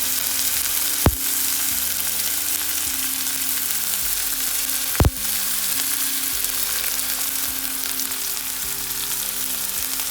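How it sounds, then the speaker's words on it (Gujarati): Vagharelo rotlo, crumbled millet flatbread, fries in a pan with a loud, steady sizzle and two sharp knocks of a spoon against the pan. No one speaks. "હલાવી લેશું. થોડીક વાર પાકવા રાખી દઈશું."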